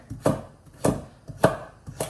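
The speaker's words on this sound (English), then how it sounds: "once you're done cutting the carrot" A knife chops through a carrot on a cutting board with four crisp, evenly spaced strikes. The sound is close and clear, and nobody speaks.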